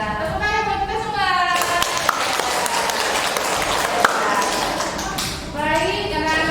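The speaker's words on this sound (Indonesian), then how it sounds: "Tepuk tangan buat kita semua" A classroom group applauds together after a Muslim religious teacher's call for cheers, a dense burst of many hands clapping for several seconds, with children's voices in the room before and after.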